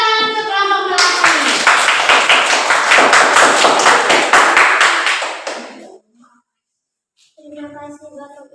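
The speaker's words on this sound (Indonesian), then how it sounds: "Kita tepuk tangan untuk kelompok melati." A classroom group of students claps for a student group called to the front, a dense burst of many hands applauding steadily for about five seconds before stopping, followed by a voice speaking.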